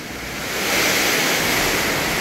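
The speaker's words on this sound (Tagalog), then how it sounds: "lakas ng hangin, lakas ng ulan" Typhoon Uwan lashing Daet with strong wind and rain: a loud, steady roaring rush that swells over the first second and then holds, with no voices.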